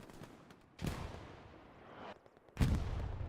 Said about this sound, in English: L90 artillery doing a wonderful job there, clearing the remaining RMC players off the point